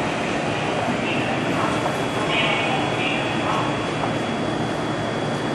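A Tokyo Metro Ginza Line train departs Shibuya Station, rumbling steadily with a dense, continuous roar and faint squeals, filling the space with broad noise; no clear voices stand out.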